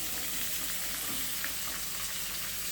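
Vegetables go into hot oil tempered with asafoetida for a mixed vegetable sambar, giving a steady, close frying sizzle that holds without pause and has no talk over it.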